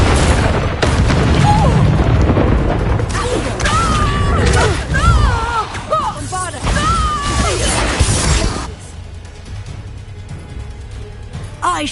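Confringo blasting curse detonating in the Hogwarts Legacy game, a heavy booming blast with shattering crash debris, followed by warbling magical effects and voices shouting during the fight, then fading to quiet.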